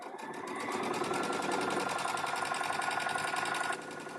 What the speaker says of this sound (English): I just feel like you didn't need to look at my face while I'm sewing.